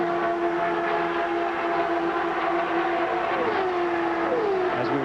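CART IndyCar race cars lapping the 2-mile oval at the 1996 US 500, a continuous roar of turbocharged engines with rising and falling pitch sweeps as cars pass, no talk.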